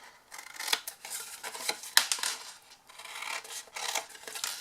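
Scissors snipping through folded card wedges in repeated crisp cuts with small rustles and paper handling between them, close up and alone with no talk.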